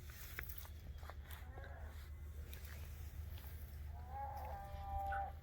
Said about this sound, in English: The cows are out tonight.